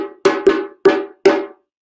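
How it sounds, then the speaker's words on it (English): Small foot-operated cowbell played in a djembe rhythm circle, five sharp metallic clanks in a quick uneven pattern, close and loud, each ringing briefly before the next. "I have a little cowbell hooked up on my foot, so that's what you're hearing."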